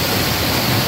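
Rushing floodwater currents after heavy rain run past a house, a steady, loud, close wash of noise that never lets up.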